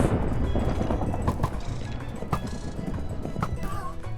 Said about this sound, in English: Triggered a trapped skeleton horse, which at the time I didn't know of.